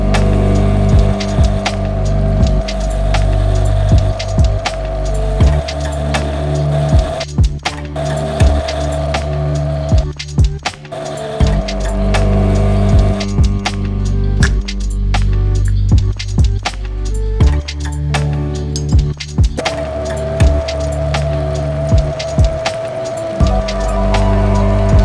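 An adapter piece being turned on a metal lathe, a loud steady machine drone with a low motor hum, broken by a few short pauses and changes in cutting tone.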